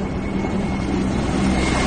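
Russian military helicopters fly low over houses near Kyiv, heard as a steady, loud, rumbling engine and rotor drone with no break.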